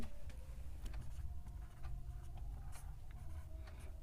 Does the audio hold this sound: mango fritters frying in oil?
no